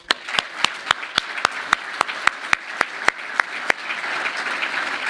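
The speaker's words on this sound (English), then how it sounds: "All those in favor of Gennady Golovkin, please clap." Delegates at a boxing congress in Rome clap together to vote by acclamation for a president, sharp synchronized claps in a steady rhythm at first, then loosening into a dense spread of applause toward the end.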